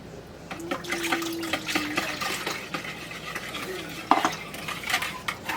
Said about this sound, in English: Going to mix it up in this bowl.